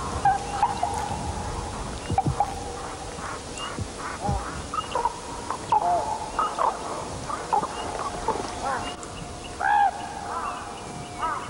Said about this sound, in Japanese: 山の中から不思議な鳴き声が聞こえてきました。 渡りガラスです。